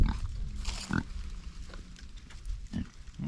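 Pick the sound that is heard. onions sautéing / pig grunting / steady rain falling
pig grunting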